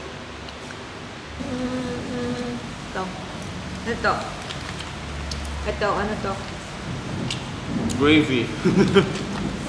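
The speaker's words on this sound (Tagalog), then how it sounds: "Lakas ng ulan." Heavy rain falls in a steady hiss behind a restaurant table, under people chatting and eating.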